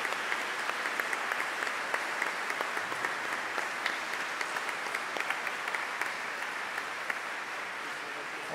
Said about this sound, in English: give you a welcome and a round of applause